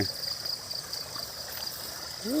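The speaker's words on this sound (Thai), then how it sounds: "น้ำไหล" Water flows steadily in a stream after rain, a soft continuous rushing trickle heard close by and alone.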